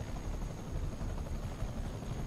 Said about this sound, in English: Now they got a helicopter?